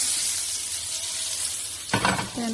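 Butter sizzling in a hot pan for pasta, a loud continuous frying hiss close up, broken near the end by a brief clatter of a utensil against the pan.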